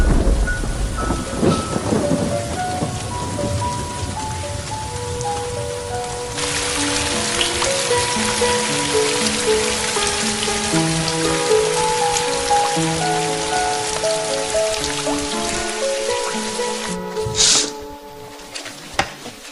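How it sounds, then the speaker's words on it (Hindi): Heavy rain pours down on a surface in a thunderstorm, a loud continuous hiss that runs the whole way through, with a soft musical score playing underneath. "कल तक बारिश रुक जाएगी।"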